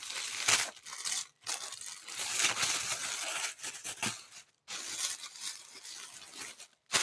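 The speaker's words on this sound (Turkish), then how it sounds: "Ve bütün ürünleri şimdi bu tatlış poşete koyuyorum." Crinkling and rustling of thin plastic as things are handled and pushed into a bag, in uneven bursts with brief pauses, close and fairly quiet.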